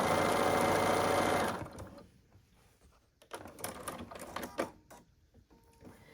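A sewing machine runs steadily and loudly for about a second and a half while stitching binding onto a minky-backed whole-cloth quilt, then stops, leaving quieter fabric handling and shuffling noises.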